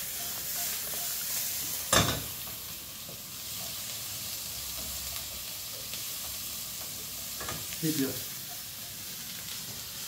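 Salmon sears in a frying pan during a home cooking show, giving a steady sizzling hiss with a sharp clatter near the start and another later. A voice speaks briefly.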